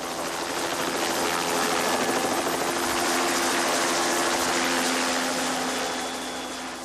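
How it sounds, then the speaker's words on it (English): A police helicopter's engine runs up on the ground before a morning flight, a loud, steady turbine whine and rotor roar that holds through the whole stretch and eases slightly at the end, with no talk over it. "The chopper is fired up, and the two men go through other routine checks of the craft before they can fly into the morning sky."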